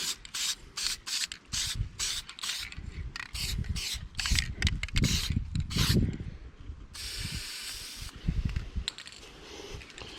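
Spray paint hisses in repeated short bursts onto a rusty step bracket on a Jayco motorhome, with rubbing and handling noises between the sprays and a longer continuous spray near the end.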